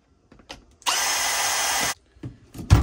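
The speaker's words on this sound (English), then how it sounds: "these screws are a little hard to get out" Long screws are worked out of a Magic Mixies toy from Moose Toys with a screwdriver, giving about a second of steady, loud whirring between a few small clicks and handling noises.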